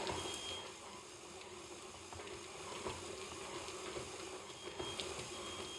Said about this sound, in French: vous aidez votre KitchenAid, enfin votre batteur